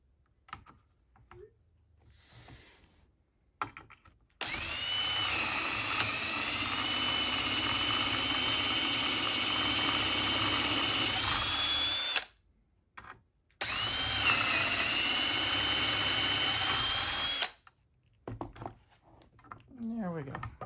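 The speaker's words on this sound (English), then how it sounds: "so we can just drill them" Power drill boring holes in a cabinet drawer front, two long loud whining bursts of several seconds each separated by a short pause, with quieter handling noises before and after.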